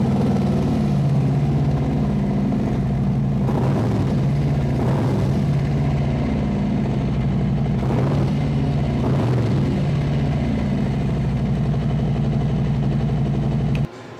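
A 2021 Harley-Davidson Electra Glide Classic with a Stage I kit and Khrome Werks mufflers idles with a deep, loud, steady throb, rising in a few brief revs before cutting off near the end.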